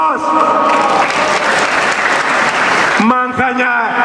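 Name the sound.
audience applause at a speech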